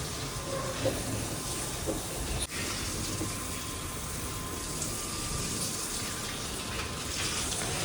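Water is poured onto dried-out plants, making a steady hissing, rushing stream with a faint click early on, at moderate level and without speech.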